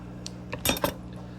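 Java fern aquarium plant cut apart with scissors, heard as a few close, crisp metallic snips and clinks clustered within about half a second over a low steady hum.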